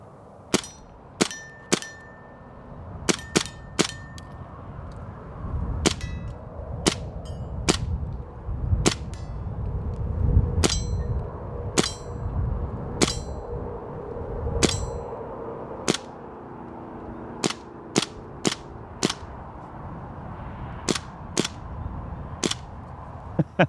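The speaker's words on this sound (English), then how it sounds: "So this is a .177 BB launcher. Let's give it a try here. Get a few shots in before we get started." A .177 BB launcher fires roughly twenty sharp, snappy shots at a target, spaced irregularly from rapid pairs to pauses of a second or two, each a crisp close crack over a low background rumble.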